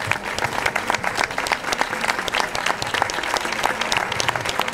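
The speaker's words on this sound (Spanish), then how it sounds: "Un aplauso para David." A flamenco festival audience claps steadily for several seconds, dense and lively applause filling the room with no voices standing out.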